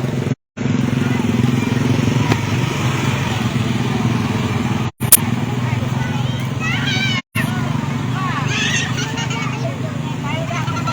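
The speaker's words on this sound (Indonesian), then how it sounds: "berpapasan juga dengan sejumlah pengendara motor yang menggunakan jembatan ini untuk" Motorcycle engines drone steadily as bikes cross a newly lit colorful bridge in Muratara, South Sumatra, under a busy crowd hubbub with children's voices, the hum continuous and fairly loud throughout.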